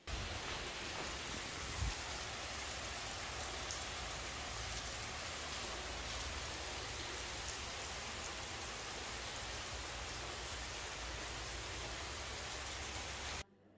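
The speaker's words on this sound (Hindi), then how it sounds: "तो मैं आपको अब जाके सिर्फ शोर ही सुनाता हूँ कि कितनी तेज़ हो रही है बारिश।" Heavy rain pours steadily outside at night in a village, a dense unbroken hiss lasting throughout with no voices, and a faint low rumble underneath.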